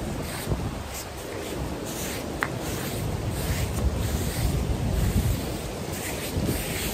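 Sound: strong wind at seaside in Nha Trang, Vietnam

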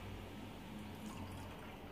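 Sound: coconut water being poured into a small cup

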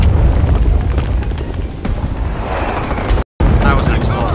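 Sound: explosion in a plastic army men video game

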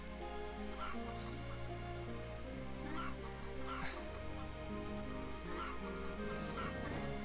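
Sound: chickens clucking in the video game Wild Arms

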